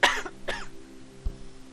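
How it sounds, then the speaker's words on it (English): A single close cough, a sharp throat-clearing burst followed by a second shorter cough, then a faint low thump; no talking. "Cough, cough. Sorry."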